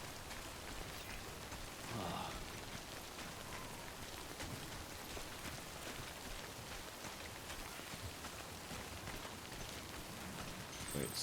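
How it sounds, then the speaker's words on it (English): Steady rain pattering continuously in a Death Stranding game scene, soft and even, with a faint thud near the start. "Rain is getting heavier."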